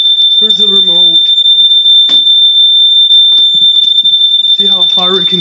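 Smoke alarm sounding during a routine weekly home test: a loud, steady high-pitched electronic tone holds unbroken throughout, with someone talking over it at the start and end.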